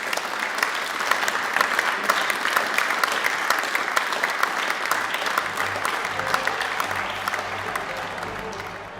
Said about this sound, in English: So this is how liberty dies, with thunderous applause.